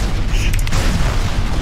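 Long-range artillery fires in the mech combat game MechAssault, a loud, close, deep boom that rolls on for over a second with a brief crackling burst near its start.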